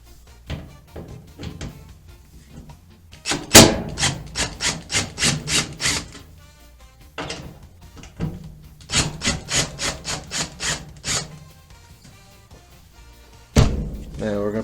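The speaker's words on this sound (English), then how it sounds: "right here are two Phillip head screws we're going to take out." Phillips head screws being backed out of a Whirlpool dryer during a belt replacement, heard as bursts of rapid rasping, rubbing clicks from a close screwdriver, with quieter handling sounds between them and a sharp knock near the end.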